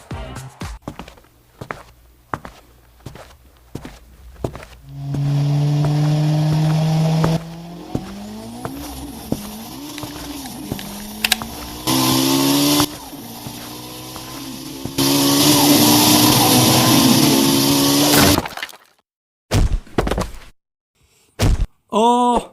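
A toy car raced around in a play imitating street racing, with revving whines rising and falling over about thirteen seconds, loud and close, between scattered knocks, clatters and thuds.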